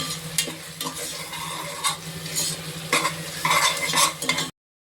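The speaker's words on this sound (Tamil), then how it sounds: "இதை நல்லா வந்து நம்ம கிண்டிக்கிட்டே இருக்கணும் கொஞ்சம் வேகிற வரைக்கும்" Garlic, with ginger-garlic paste, being stirred in a pressure cooker for vegetable biryani, with repeated scraping strokes over a soft sizzle, close and moderately loud with no talk, ending in sudden silence.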